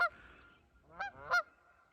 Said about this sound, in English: Look at those two big, beautiful Canadian geese.